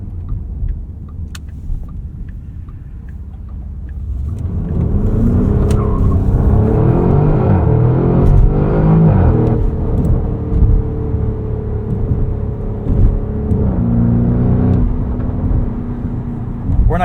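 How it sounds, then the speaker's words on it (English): The V8 exhaust of a 2024 Porsche Cayenne Turbo E-Hybrid Coupe swells from a low idle into a loud, rising rev under acceleration, holding a throaty roar with gear-change dips before easing to a steady cruise. "I'm actually surprised Porsche has given it this loud and boisterous of an exhaust"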